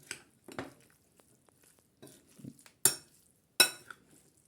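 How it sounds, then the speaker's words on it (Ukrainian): Salad of carrot leaves and rabbit meat with garlic being stirred in a bowl: a few scattered scrapes and light clinks of a utensil, with two sharper knocks near the end, fairly quiet and with no talking. "в кінці перемішуємо"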